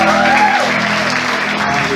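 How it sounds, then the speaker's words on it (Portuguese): A church congregation applauds in a dense, loud, steady wash, with a voice or music carrying through it. "Vamos aplaudir o Rei Jesus."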